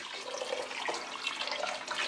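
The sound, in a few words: chicken stock and water poured into soup pot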